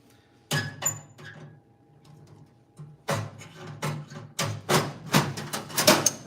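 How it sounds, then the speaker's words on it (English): Cleco sheet-metal fasteners are pushed into a car's body panel during panel-to-panel work, making a series of sharp metallic clicks and clinks, close and irregular, growing denser toward the end, with no talking. "Put another Cleco in now."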